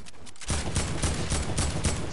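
Rapid gunfire in a shooter video game, a dense continuous burst of shots starting abruptly after a brief quiet moment, loud and close.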